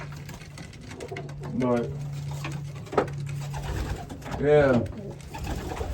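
Racing pigeons coo in a loft, two clear bursts of soft throaty cooing rising over a steady low hum, with someone talking briefly between them.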